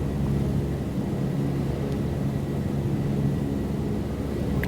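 Light aircraft engine droning steadily at raised throttle, a loud continuous rumbling hum heard from inside the cockpit, without talk.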